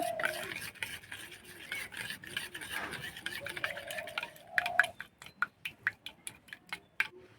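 A spoon stirs raita seasoned with black salt, sugar and white salt, first in a soft continuous swirl, then in a run of crisp, evenly spaced clicks against the bowl, close and quiet.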